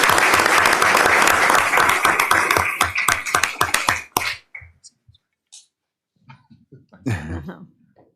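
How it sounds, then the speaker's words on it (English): A room at a board of education meeting breaks into applause, dense clapping that tapers into scattered claps over about four seconds, followed by near silence with a cough and throat clearing. "but Brad, give him a round of applause."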